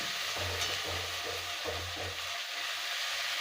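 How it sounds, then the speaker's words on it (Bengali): Tomato frying in a pan for a traditional Bengali patol chingri dish, giving a steady close sizzle with a few soft stirring scrapes and no voices. "টমেটোটা ভালো করে ভেজে নেবো।"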